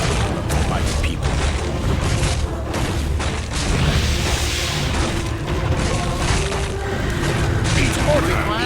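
Mortar explosions from dwarf units in Warcraft 3 Reforged's Dwarf campaign: dense, continuous booming and crackling blasts fill the whole stretch at close, loud level, with unit voices mixed in.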